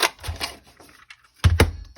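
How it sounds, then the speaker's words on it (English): A handheld paper punch snaps through paper close by, a couple of sharp clacks and clicks with a quick double hit near the end, no talking. "And now I'm going to go over here, and I'm going to punch it here."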